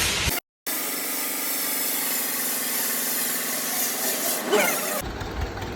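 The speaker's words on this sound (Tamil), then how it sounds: "சைடு எட்ஜஸ்லாம் ரொம்ப ஷார்ப்பாக இருக்குங்கிறதுனால பாலிஷ் பண்ணுறாங்க" An edge-polishing machine grinds the sharp sides of mirror glass, giving a steady, loud abrasive whir throughout, with a short dropout near the start and a change in tone near the end.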